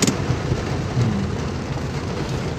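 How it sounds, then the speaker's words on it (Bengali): Steady rain hissing on a car during a driving lesson, a dense, even wash of sound heard from inside the vehicle, with a low rumble underneath and no talking. "এখন বৃষ্টি পড়ছে দেখতে পাচ্ছেন"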